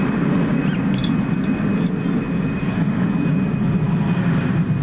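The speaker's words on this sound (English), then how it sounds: "American 876 to Madison, Wisconsin, an Airbus A320" American Airlines Airbus A320 jet at DFW airport at night, a steady loud low engine roar held throughout without a break, with a faint high whine above it and no voices.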